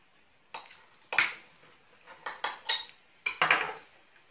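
Cutlery taps and scrapes against a plate while cornmeal pastries filled with mozzarella and egg are cut, a few separate sharp clinks spaced out over a few seconds, close and fairly loud, with no talk.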